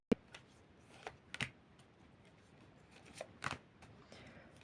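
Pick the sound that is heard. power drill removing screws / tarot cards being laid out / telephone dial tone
tarot cards being laid out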